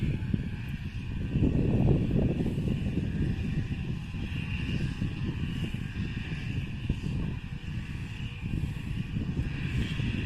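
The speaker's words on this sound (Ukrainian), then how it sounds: "Вітер страшенний, вибачайте." Strong wind buffets the microphone throughout, a steady low roar with gusty surges and no voices.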